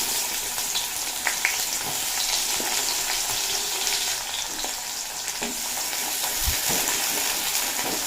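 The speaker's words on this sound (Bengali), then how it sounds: "পেঁয়াজটা বেশ নরম করে ভেজে নেব লাল লাল করে ভেজে নেওয়ার প্রয়োজন নেই" Chopped onions frying in oil after black cumin seeds for a fish curry, a dense continuous sizzle with scattered stirring scrapes and light knocks, close and steady.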